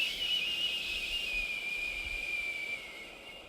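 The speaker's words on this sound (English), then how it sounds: "exhale or try to whistle it out" A long, thin whistling exhale, a steady airy high tone with breathy hiss that holds and slowly fades, close and alone.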